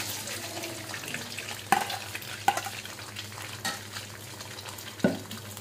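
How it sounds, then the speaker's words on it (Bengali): Two eggs frying with chopped garlic in a pan for chicken chow mein, a steady sizzle broken by several sharp knocks and scrapes of a utensil against the pan. "ডিমটা সুন্দর করে ভেজে নিতে হবে"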